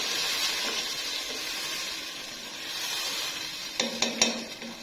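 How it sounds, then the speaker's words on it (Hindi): Pressure-cooked mutton and kachnar buds fry and get stirred in a pot, with a steady sizzle and hiss, then a few sharp metallic scrapes and clinks of the spoon against the pan near the end. "तो इसमें ये मैं ऐड करूंगी और इसको मिक्स करके भून लेंगे अच्छे से।"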